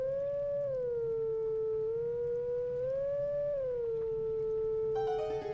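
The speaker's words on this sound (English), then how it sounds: "I just have to howl it differently" Wolf Link in Twilight Princess HD howls a song, a sustained tonal howl that rises and falls in a slow melody, loud and close, with a brief chime entering near the end.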